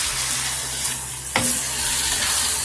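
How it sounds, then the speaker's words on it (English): Borscht vegetables sizzle steadily in a pan with tomato paste water, a continuous close frying hiss broken by a sharp scrape of stirring. "fry it for another 5 minutes while stirring occasionally"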